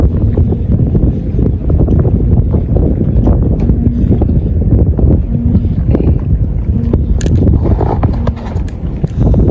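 Strong wind buffets the microphone at a fishing spot on a bridge at Samae San, a loud continuous roar with gusty rumble and no talk.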